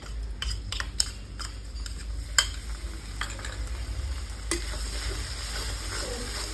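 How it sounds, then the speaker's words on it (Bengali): Ginger-garlic paste hits already-fried onions in a pan, giving a steady close sizzle punctuated by sharp spatula scrapes and taps. "পেঁয়াজ আমার ভাজা হয়ে গেছে, এবার দিয়ে দেবো আদা রসুনের পেস্ট"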